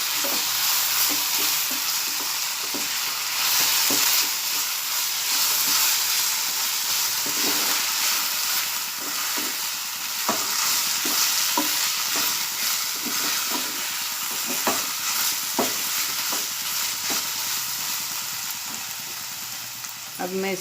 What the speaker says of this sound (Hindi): अब मैं इसे मिक्स करूंगी